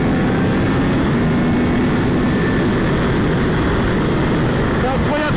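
Triumph Speed Triple 1200 RR three-cylinder motorcycle engine, 180 horsepower, a 2022 model, giving a loud continuous droning roar at steady revs throughout, with a voice partly audible beneath it.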